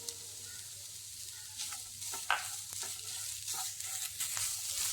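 A mixture with two or three crushed cardamom pods sautéing in a pan makes a quiet, soft sizzle, with a spatula stirring and scraping at intervals that grow slightly busier toward the end, and no speech.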